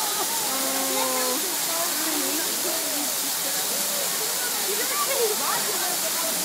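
Steady broadband rush of a waterfall in a zoo elephant enclosure where elephants are playing in the water, continuous and fairly loud, with excited adult voices and chatter over it.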